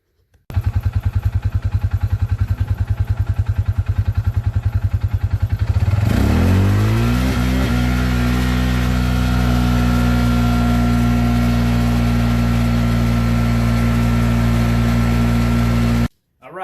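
A Polaris RZR 570 engine, clutched for 32-inch tires, idles with a fast loud putter, then revs and settles into a steady higher drone before cutting off abruptly.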